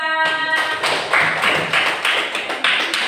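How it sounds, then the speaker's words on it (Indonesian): Classroom applause for a student group, heard as a run of roughly eight loud claps in a steady rhythm after a brief tonal sound at the very start. "berikan aplaus untuk kelompok 2"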